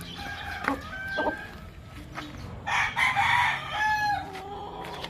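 A few short clucks are followed by a Larry Romero Raptor Sweater broodstag crowing nearby, loud and drawn out, over a low background hum.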